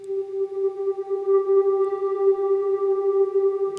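A sustained synth tone plays filler notes in a song, a clean steady pitch with bright harmonics held for several seconds, close and alone.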